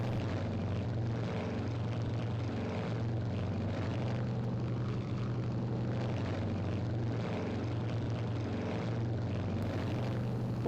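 Piston engine drone of a B-26K Counter Invader in the Strike Fighters 2 Vietnam flight game, a steady, continuous propeller hum heard alone throughout.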